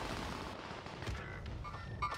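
A sniper rifle shot fired in a competitive online shooter game, a single sharp report within dense, steady game noise, heard fairly close.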